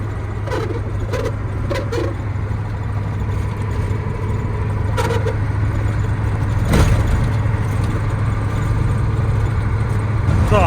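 A car drives through a snowy city on an uncleared road, its engine a steady mid-pitched drone throughout, with a few faint clicks and rattles from inside the cabin.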